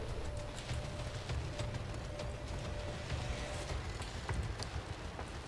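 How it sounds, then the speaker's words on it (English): Continuous hiss of heavy rain in the video game F.E.A.R. 3 pattering on surfaces, with scattered sharper drops and faint mechanical clicks, steady throughout with no talking. "it's raining a lot"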